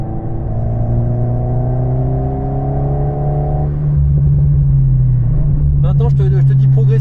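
An Alpine A110 on a race track, its engine droning loud and close with a falling tone before rising again under acceleration, while a coach speaks over the engine.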